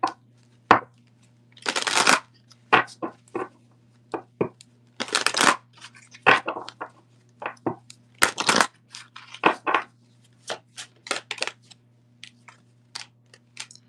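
Golden Lenormand cards being shuffled in repeated bursts of riffling and sliding, loud and close, separated by short pauses with a faint steady hum underneath.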